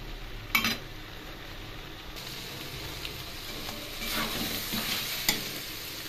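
Prawn and pumpkin curry stir-fried in a pan, with a soft steady sizzle under occasional scrapes and clinks of a spatula against the metal, close and fairly quiet.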